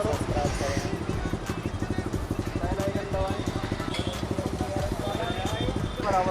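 A dirt bike engine idling close by with a rapid, even thumping rhythm, while people talk over it.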